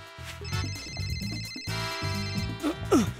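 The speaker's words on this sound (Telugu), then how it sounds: "సార్, మిస్టర్ ఈకాల్ గారు మీకు ఫోన్ చేస్తున్నారు." Telephone ringing in a repeating electronic ringtone pattern, fairly close and clear, with a brief vocal sound near the end.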